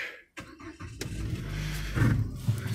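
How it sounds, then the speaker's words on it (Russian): A Chery Tiggo 4 starts after severe frost of minus 42: a short cranking burst, then the engine catches and settles into a steady close idle with a slight rise in revs. "Cherry Tiggo 4 запустилась"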